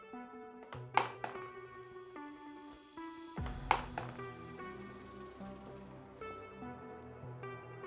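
A 2.4-ounce pinball drops onto a smartphone treated with Cellhelmet liquid glass, giving two sharp, bright impacts a few seconds apart over a faint music bed.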